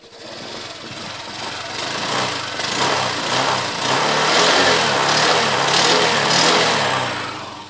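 A Honda Click 125 scooter engine runs after starting following a repair, a close, steady buzzing whir that rises slightly in revs and holds throughout.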